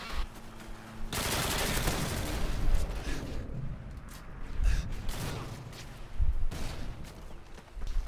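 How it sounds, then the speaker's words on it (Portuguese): Call of Duty: Modern Warfare 2 gunfire crackles in dense bursts and volleys, with rapid shots and heavier booms layered together at close range. "É muito tiro."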